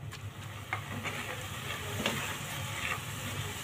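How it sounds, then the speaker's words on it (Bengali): Grated coconut stirred in a hot pan, a soft steady sizzle with faint scraping and stirring taps, quiet and close with no voices. "আমি নারকেলটাকে নেড়ে চেড়ে কিন্তু একদম নাড়ুর মতো করে নেব।"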